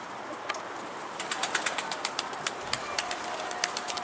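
An escaped pigeon with half its tail missing flies near a loft, giving a faint series of quick wing claps and flutters over a steady outdoor hiss.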